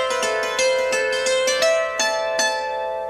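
A hammered dulcimer phrase played without left-hand anticipation, a quick run of bright, ringing struck strings with crisp attacks in an uneven rhythm, sustaining and overlapping, clear and close with no voices.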